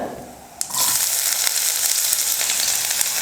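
Chopped shallots drop into hot oil and start sizzling at once, a loud, steady crackling fry that continues close up.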